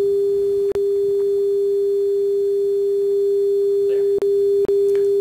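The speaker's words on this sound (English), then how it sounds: "Sine waves are easy." Pure sine test tone played through speakers during a sound-system presentation in Daytona Beach, one loud, steady, unbroken note with three brief dropouts.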